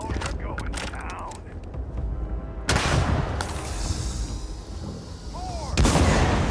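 Heavy gunfire and explosive blasts from a firefight in the video game Starfield, with several loud broadband bursts and crackling shots over a busy combat din, and bits of voice mixed in.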